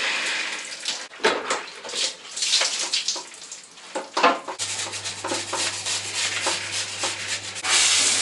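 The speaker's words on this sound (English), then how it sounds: "Basically cleaning my chain and my sprockets and everything like that." A bike chain and sprockets are scrubbed clean indoors with a brush, producing uneven bursts of rough, wet rubbing and scraping, close and fairly loud, with brief pauses between strokes.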